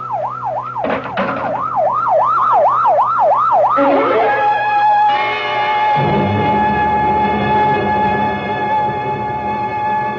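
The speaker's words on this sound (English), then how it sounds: "better get that ambulance out here fast" Radio drama sound effect of an ambulance siren, loud and wailing in steady cycles, then shifting to a higher warble and a long blaring tone as the vehicle arrives, with engine rumble underneath.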